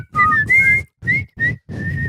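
Someone whistles the Andy Griffith Show theme in several bright, melodic phrases with short pauses between them, close and clear with no talking.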